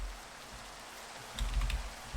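Steady rain patter in Minecraft, a soft hiss of falling drops that swells louder and denser partway through, with no talk over it.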